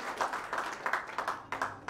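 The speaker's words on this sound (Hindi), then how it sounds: "एक जोरदार ताली हो जाए, जोरदार एकदम।" An audience at an electricians' awards event in India claps for a winner called to the stage, a dense steady patter of many hands, moderately distant.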